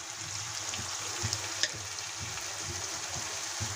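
Onions, green chillies, cumin, garlic and ginger paste sizzle in hot oil for a village-style chicken curry, a steady close frying hiss with soft stirring scrapes and a few clinks.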